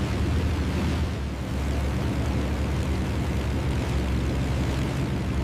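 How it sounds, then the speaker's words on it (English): Japanese warplanes fly away after the Pearl Harbor attack as a continuous, dense, roaring rumble that stays level and fairly loud throughout, with no voices. "Late in the morning, the Japanese aircraft finally began to withdraw."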